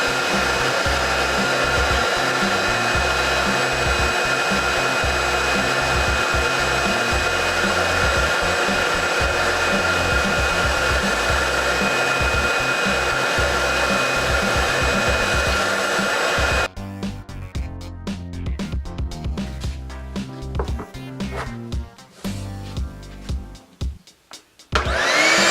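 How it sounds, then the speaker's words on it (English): A shop vacuum runs steadily as dust extraction for a woodworking sanding downdraft table, a loud continuous whine and roar that shifts to a rougher, fluttering tone partway through, with no talk. "so I turned on the vacuum, and it worked"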